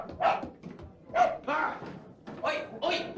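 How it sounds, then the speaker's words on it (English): A dog barks indoors in several sharp close bursts spaced about a second apart, with a voice talking between and over the barks in a police station scene from a TV drama. "What's that dog doing in here?"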